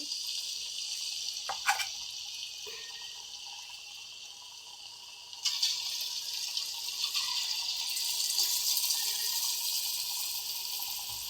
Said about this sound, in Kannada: ಎಣ್ಣೆ ಕಾದಿದೆ ಇವಾಗ ಎಣ್ಣೆಗೆ ಹಾಕೋತಾ ಇದ್ದೀನಿ ಹೀರೆಕಾಯಿ